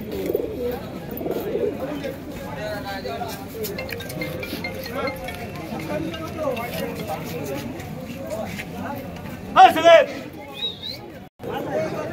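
Pigeons coo softly amid a busy crowd at a pigeon market in Kolkata, with people talking and chatter all around; a brief clink sounds near the end.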